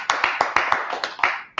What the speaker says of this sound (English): Let's clap it up for the brotherhood